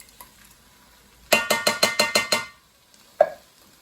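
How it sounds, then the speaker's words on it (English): Seven quick, evenly spaced scrapes of a spoon stirring sausage casserole with garlic in a pan, close and crisp, followed by a single clink after a short pause. "Give that a little stir through"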